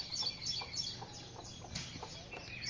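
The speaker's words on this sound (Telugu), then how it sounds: "సౌండ్లు వినిపిస్తున్నాయి పక్షులు" Birds chirp and tweet repeatedly around a village house at daybreak, mixed with clucking chickens, moderately near with no talking.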